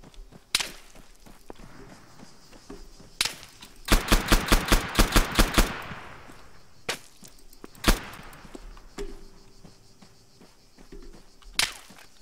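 Gunfire in the video game Arma 3: scattered single sharp shots, then a burst of about eight rapid rounds, followed by more isolated loud reports.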